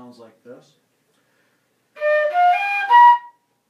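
After a few quick spoken words, a flute plays the short closing phrase of the Mardi Gras tune The Second Line, a handful of clear, connected notes ending on a higher, held tone.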